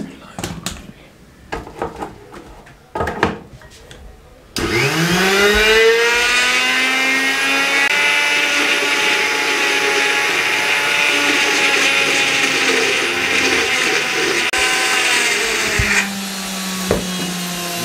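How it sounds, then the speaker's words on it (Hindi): A kitchen mixer grinder blends peanuts, green chillies and cold water into chutney. After a few clicks and short bursts, the motor starts and whines loud and steady for about eleven seconds, then slows. A voice can be heard faintly at the start. "और इसको अच्छे तरीके से ग्राइंड करेंगे।"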